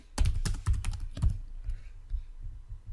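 Quick bursts of keystrokes on a computer keyboard as a description is typed, a rapid clatter of close clicks for about a second and a half, then a few sparse, fainter taps.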